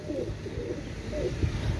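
Pakistani pigeons coo in a low, soft, repeated murmur, several overlapping calls close by against a steady background hum, with no talking.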